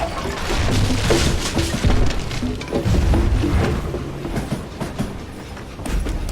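A long train in the Call of Juarez: Gunslinger video game rolls along the tracks with a steady rumble and rhythmic clickety-clack, broken by heavy thumps and clanks from the cars, loud and close throughout.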